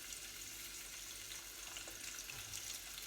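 Steady hissing sizzle of vegetables frying in hot oil, continuous and fairly quiet, with no voices.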